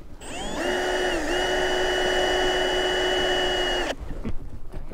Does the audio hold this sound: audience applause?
no